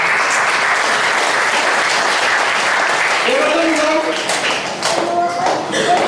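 An audience at a church teaching session applauds in a dense, even wash of clapping that thins near the end as a voice begins speaking over it.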